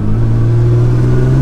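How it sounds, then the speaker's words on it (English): A car engine revs hard as the gas pedal is floored, a loud, steady, close-up roar that holds its pitch for about a second and a half with no talk. "when you put your foot down on the gas and floor it"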